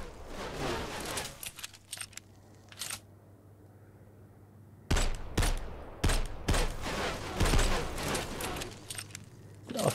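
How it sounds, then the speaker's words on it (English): Sharp cracks and bursts of incoming gunfire in a post-apocalyptic zombie shooter video game on a desert map come in clusters, separated by a quieter stretch with a low hum. "Those bullets sound weird when they come."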